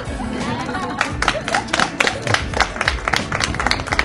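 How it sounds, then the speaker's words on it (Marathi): A group of guests claps at a home birthday celebration. The applause is dense and irregular and builds into sharper bursts, with crowd chatter and some speech mixed in underneath. "एकदा जोरदार टाळ्या, सगळ्यांच्या टाळ्या वाजल्या पाहिजे"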